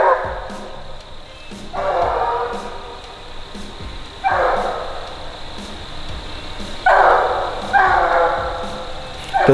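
Hound pup barking at a tree during treeing training, several separate bursts of bays and yips spaced a couple of seconds apart, fairly close, with an outdoor background between them.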